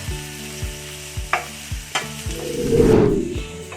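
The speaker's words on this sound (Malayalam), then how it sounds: "ഇതുപോലെ വേണം നമ്മൾ ഉള്ളി വഴറ്റാൻ നല്ലതുപോലെ വഴറ്റണം" Onions sautéing in a pan for paneer butter masala, with a spatula scraping in regular rhythmic strokes over a low sizzle, then a louder burst of frying near the end.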